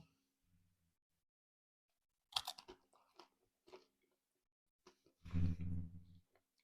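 Crunchy chewing of oven-roasted potato with a crisp crust close to the mic: a few sharp bites and crackling chews, then a louder burst of munching after a short pause, in an otherwise quiet room.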